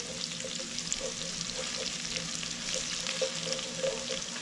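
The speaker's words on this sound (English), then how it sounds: "At this stage I'm going to add the chopped green chili" Onion and chopped green chili frying in a pan for Kolkata-style vegetable chops, a steady close sizzle with soft stirring scrapes throughout and no talking.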